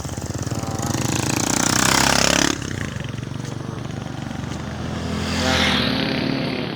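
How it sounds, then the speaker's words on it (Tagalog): Big bike motorcycles pass along a provincial road in the Philippines, two loud engine roars swelling and fading one after the other, close by. "mga big bike din nila oh"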